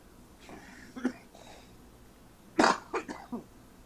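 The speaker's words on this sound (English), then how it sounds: "I've been coughing up black lately" A person with pneumonia coughs several times in two bursts, a couple of faint coughs followed by a louder cluster of harsh, wet coughs, close to the mic in a quiet room.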